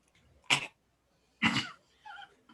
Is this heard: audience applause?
no